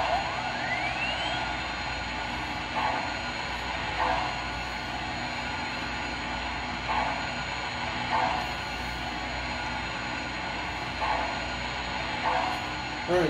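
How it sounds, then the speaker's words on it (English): An MTH 2-8-8-4 DMIR Yellowstone model steam locomotive starting up, giving a steady mechanical hum and hiss with soft rhythmic chuffs repeating every second or so, under low background noise. "now that we've got the locomotive started up"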